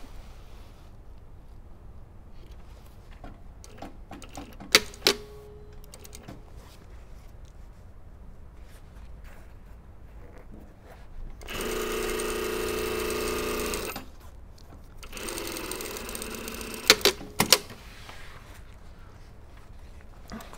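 Sewing machine stitching a fabric godet into a seam, two bursts of fast whirring needle running separated by quiet handling, with sharp clicks and taps of fabric and tools nearby.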